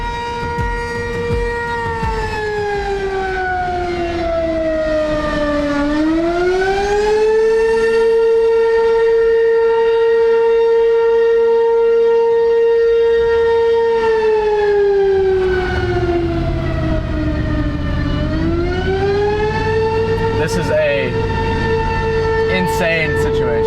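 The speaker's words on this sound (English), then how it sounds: "the eerie, retro tornado sirens only reassured me of that." Retro tornado warning sirens wail loudly and continuously, their pitch sliding down and back up in slow sweeps as they rotate, with a low rumble of wind or traffic beneath, during a high school storm chase tornado intercept.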